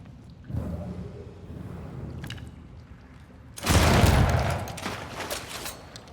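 Gunfire in Banishers breaks out as a loud, dense burst of shots and impacts after a stretch of quieter ambient game sound, then trails off into softer noise.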